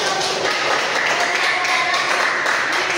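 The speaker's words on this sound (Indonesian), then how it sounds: "ya tepuk tangan buat teman kita yang masih" Classroom students clapping together in a steady, busy patter of many hands, fairly close and loud, lasting the whole brief stretch.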